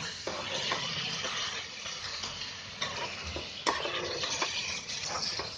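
Green hariyali chicken masala cooks down on a high flame, with a continuous bright sizzle and bubbling. Repeated scraping and clinks from a spoon against the pan sound close by, and there is no speech.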